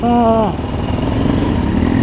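Dirt motorcycle revving on a muddy forest trail, a loud engine with a rising, wavering pitch at the start, then a steady, rough, close drone.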